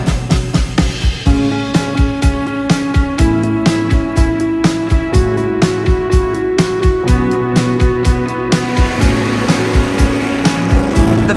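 Cars blasting up the hill climb track at the Goodwood Festival of Speed in the grounds of Goodwood House, a loud, continuous engine roar with rapid, rhythmic pulsing and tonal whine throughout.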